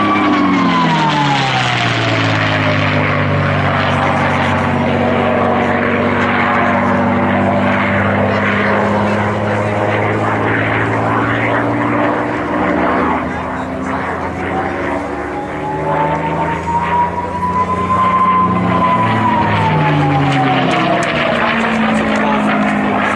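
A small propeller aircraft with black and white invasion stripes drones past at the 2012 Abingdon Airshow, its engine tone swelling and shifting in pitch as it passes, loud and continuous.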